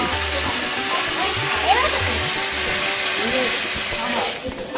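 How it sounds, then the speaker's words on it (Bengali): Rainwater poured into a pot where cow ear has been frying, giving a continuous loud rush and splash of liquid over faint sizzling, with a voice talking over it. "এবার পানি দিয়ে দিতে হবে এটা হলো বিশুদ্ধ বৃষ্টি পানি"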